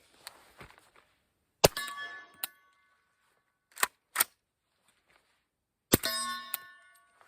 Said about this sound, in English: The steel is louder than the gun.